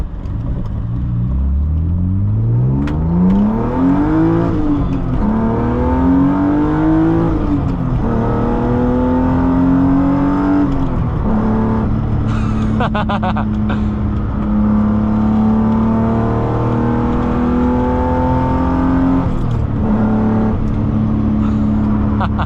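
A BMW E36 M3 with an M50 intake manifold and manual gearbox revs hard and accelerates through several gear changes. The loud, close engine note climbs repeatedly and drops between shifts, with a continuous rumbling roar and no talking.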